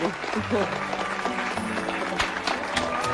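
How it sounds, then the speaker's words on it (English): An audience applauding a young couple at a Valentine's event, a steady wash of clapping filling the whole stretch at moderate volume, with a voice speaking over it. "One more round of applause for these two kids."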